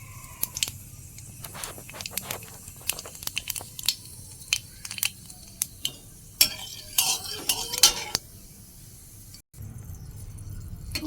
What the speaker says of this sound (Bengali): এবার দিয়ে দেবো আমি কালো জিরে ফোড়নের মধ্যে